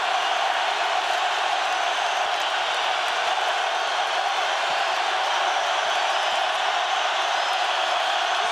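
Steady, dense crowd roar fills an indoor basketball arena during a BYU vs Wake Forest game, a continuous wash of cheering without clear breaks or distinct voices.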